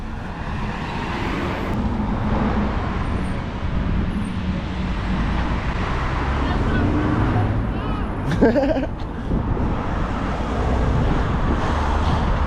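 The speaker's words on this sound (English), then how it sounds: "Someone just drove past you in Gingerman with a cam." A car drives past on a road, a broad rising-and-falling wash of tyre and engine noise at moderate distance, mixed with ongoing background traffic and someone speaking.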